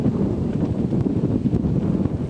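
Headwind buffets the microphone on the water during a Harvard–Yale varsity eight rowing race, a steady loud broadband rumble and roar with gusty swells and no voices.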